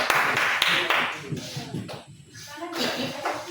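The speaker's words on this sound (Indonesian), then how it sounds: "beri tepuk tangan dulu untuk teman-teman" A classroom of students claps for classmates about to present, a dense burst of hand claps in the first second or so that thins into scattered shuffling and chatter.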